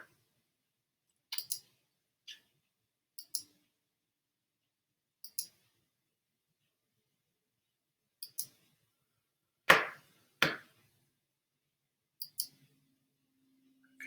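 Sparse, crisp computer mouse clicks sound in quick pairs and singles, close and quiet against near silence, as circles are clicked away one after another.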